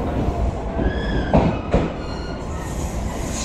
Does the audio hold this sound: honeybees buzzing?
no